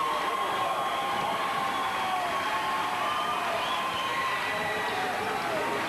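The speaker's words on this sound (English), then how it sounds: "that, of course, gets the Riverside folks up across the way there and cheering" Riverside supporters cheering across the gym at a 1982 women's volleyball championship match, a steady roar of crowd noise and shouting that stays loud and unbroken throughout.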